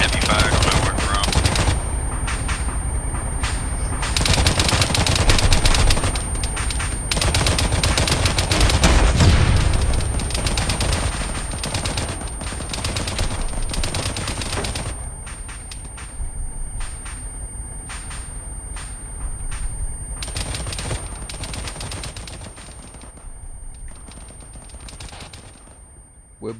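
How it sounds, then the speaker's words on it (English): Sustained automatic gunfire and rapid bursts from the Modern Warfare video game, loud and dense at first, then thinning into separate cracking volleys and scattered shots. "Taking heavy fire, don't know where from."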